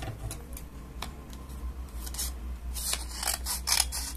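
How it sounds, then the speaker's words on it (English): Paper for a paper action figure being handled and folded in half, giving close crinkly crackles and sharp creasing snaps over a steady low background hum, with no talking. "Now we will fold this in half"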